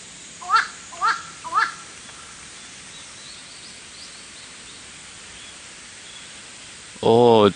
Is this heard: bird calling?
yes